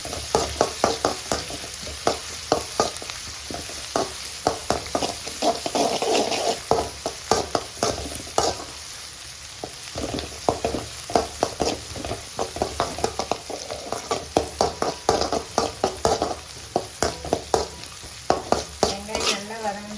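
Ingredients with dried red chillies sizzle and fry in a pan while a utensil stirs repeatedly, giving a steady frying hiss punctuated by frequent scraping clacks, close up with no talking.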